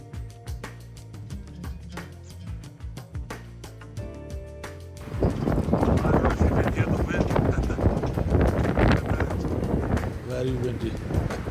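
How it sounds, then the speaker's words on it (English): Strong wind on a walk along Eisenhower Park roars and buffets the microphone in a loud, dense rush that takes over midway, following a quieter opening stretch of tonal, music-like sound. "Very windy."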